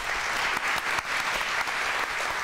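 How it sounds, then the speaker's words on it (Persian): Audience applause on a Persian pantomime game show: dense, steady clapping from a studio crowd, loud and continuous throughout with no talk over it. "آفرین. تشویقش می‌کنم."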